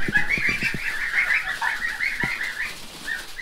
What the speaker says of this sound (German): Heute früh war ich erstmal hier kleine Gänse holen.